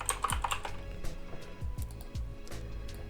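Rapid keystrokes on a computer keyboard while typing a command into Substance Designer during rug texture design, a close, crisp series of uneven clicks lasting a few seconds with no talk.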